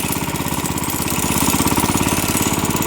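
A small walk-behind tractor (motoblock) engine runs loud and close while driving through winter snow, a steady rapid chugging pulse with no pauses.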